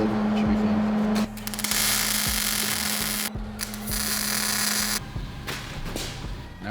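Small tack welds join 90-degree magnets to a skid mount, giving harsh crackling, sputtering bursts close up, in a few separate stretches with brief breaks between them.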